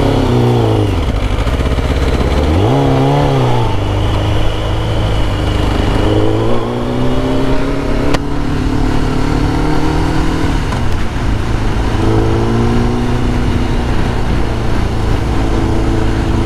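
A Kawasaki ZX9R motorcycle with imperfectly tuned carburetors drones steadily while riding, its engine pitch climbing and falling through several throttle changes under rushing wind.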